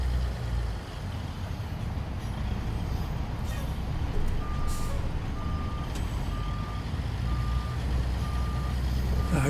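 A semi truck reverses a Great Dane trailer, its backup alarm beeping steadily and evenly over a constant diesel engine idle and road noise.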